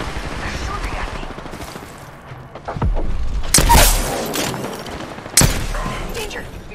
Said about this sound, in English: The enemies are shooting at me. They're shooting at me.